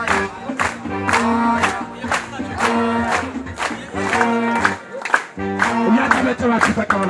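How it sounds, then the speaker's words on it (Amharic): An audience at a prison gospel gathering claps in a steady rhythm, roughly two claps a second, over loud group singing and voices, continuous throughout. "እያጨበጨባችሁ ተቀበላችሁ።"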